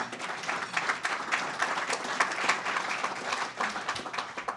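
Audience at a Columbus Rotary meeting breaking into a round of applause, a dense wash of clapping hands sustained throughout at moderate distance.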